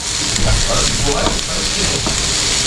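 Onions and shallots fry in a pan with a loud, dense, continuous sizzle and occasional stirring scrapes, close up, with faint talk underneath.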